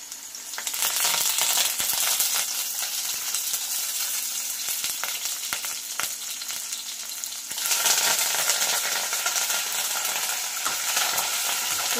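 Dried red chillies, onions and curry leaves frying in oil with cumin and mustard seeds for pappu charu give a bright, dense crackling sizzle that swells loudly partway through and then holds steady.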